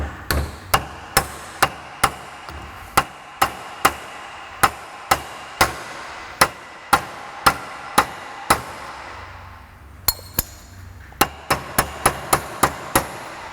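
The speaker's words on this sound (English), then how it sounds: "All I have to do now, hammer it on." Sharp, regular hammer strikes drive a pinion seal onto a Ford 8.8 axle with its installation tool, about a dozen evenly spaced blows, a short pause, then a quicker run of taps.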